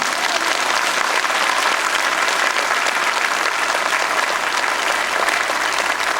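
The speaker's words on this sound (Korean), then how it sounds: "박수 한번 해주세요." An audience at a world mission conference in a Korean Baptist church applauds the choir: loud, dense, continuous clapping throughout, with no voices above it.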